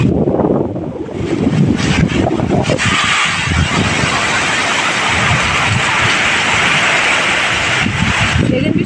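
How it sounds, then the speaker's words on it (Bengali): Heavy rain and gusting wind during a storm make a loud, steady, broadband roar that fills the whole stretch, close to the microphone with no break. "কি বৃষ্টিটা দেখ, চন্ড বৃষ্টি।"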